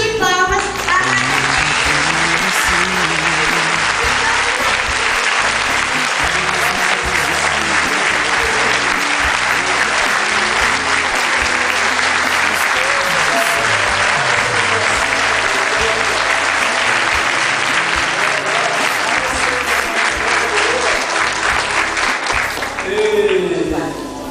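A church congregation gives a sustained round of applause in tribute to Madre Adeli, a dense wash of clapping that runs steadily for over twenty seconds before tapering at the end.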